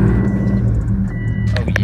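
A straight-piped 2018 Subaru WRX exhaust rumbles loud and close, a deep throbbing drone that holds steady for under two seconds.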